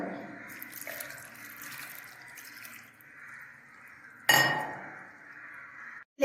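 Dissolved coconut milk powder in warm water is poured into chicken roast in a pan, a steady liquid pour with a clink of the vessel partway through, close and moderately loud.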